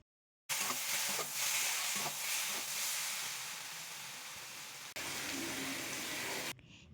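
Potatoes and fried flat beans sauté in a chili-tomato spice paste in a kadai, producing a soft, steady hissing sizzle with a brief break midway, faint and close, with no talking.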